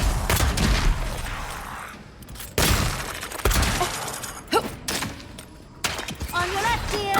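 Gunfire in the fantasy video game Avowed, bursts of loud shots and crashing impacts that come in waves under a person's talk, with breaks between flurries.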